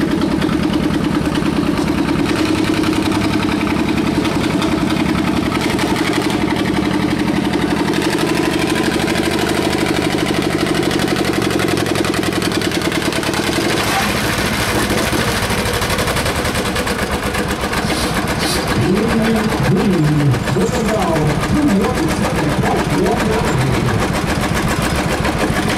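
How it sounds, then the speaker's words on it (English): Old John Deere B tractor engine running rough with two or more cylinders popping, a loud, steady, uneven chug and bark at close range that continues throughout, with no talk over it. "2 cylinders are popping. Might be more than 2 cylinders, I don't know."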